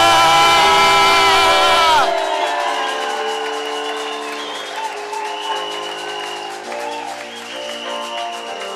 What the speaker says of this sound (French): Acclame, acclame, acclame. Alléluia.